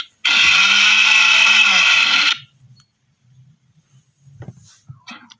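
A kitchen mixer grinding ginger and garlic into paste runs loud and steady for about two seconds, then stops, leaving faint clinks and small handling sounds.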